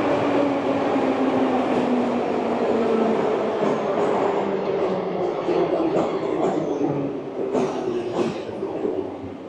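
Riding inside a Soviet-era Tashkent metro train underground: a loud, continuous roar of wheels and tunnel rumble, with some faint clicking and squealing, heard close and filling the whole stretch.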